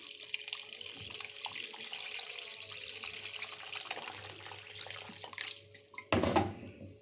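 Plain tap water streams from a faucet into a pot of rice, a steady hissing pour lasting several seconds before a louder splash and a sharp cutoff near the end.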